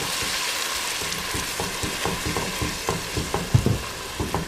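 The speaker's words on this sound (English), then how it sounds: "So I'm going to add about a cup of wine to the pot." Red wine splashes into a hot pot of caramelized onions for French onion soup and sizzles loudly and steadily, with stirring scrapes and small pops rising toward the end; no one speaks.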